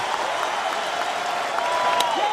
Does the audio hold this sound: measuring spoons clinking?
no